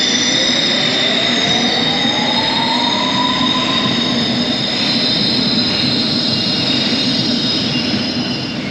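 A London Underground Circle Line train rumbles loudly and continuously from inside the carriage, with rising metallic whines and wheel squeal over the steady roar.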